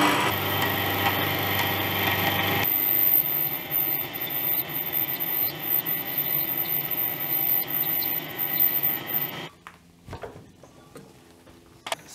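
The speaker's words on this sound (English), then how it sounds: "Oh, turning in the lathe." A metal lathe turns a motorcycle brake backing plate in a shop, with a loud steady machine hum and faint ticking that shifts in tone partway through, then stops abruptly near the end, leaving a few quiet clicks.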